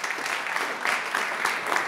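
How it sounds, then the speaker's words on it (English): Audience applause at a startup competition, a steady broadband clapping wash filling the whole two seconds at moderate loudness with no voices over it. "Big applause for German Bionic."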